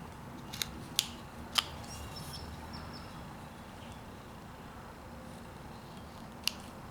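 A carving knife bites into a wood block while shaping a character's head, giving a few sharp, quiet clicks and snaps spread across the stretch, set against faint room hiss.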